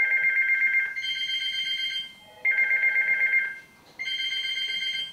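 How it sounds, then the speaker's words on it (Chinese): Telephone ringing nearby, a bright electronic tone sounding in repeated bursts with short gaps between, loud and clear over a quiet room with no talking. "没事你要接电话你就接"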